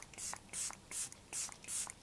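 Five short misty hisses come in a quick, regular series as a setting spray, a glow milk mist, is pumped onto the face, close and soft, with no talking.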